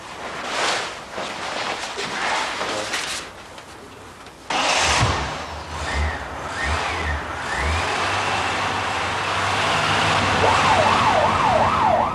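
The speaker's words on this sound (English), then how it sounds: "Can you see the blue light flashing and hear the siren? This means the ambulance is going to an emergency." An ambulance speeds to an emergency with its siren wailing and yelping in rising and falling sweeps, loud and close, over engine noise and passing traffic.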